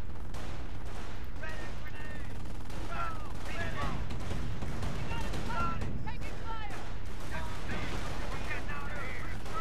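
Gunfire and explosions rattle through a Company of Heroes 2 battle, with a grenade blast among dense, continuous combat noise that stays loud throughout, while a player talks over it.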